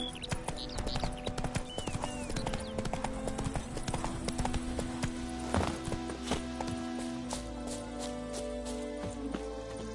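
Horse hooves clip-clop in the video game Witcher 3 as a steady walking rhythm of hoofbeats over a busy bed of game ambience and music.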